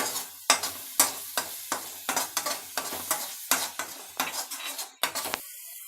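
Chili powder fries on low gas in a pan, a spoon scraping and knocking the metal in a steady rhythm of roughly a dozen sharp strokes over a gentle sizzle.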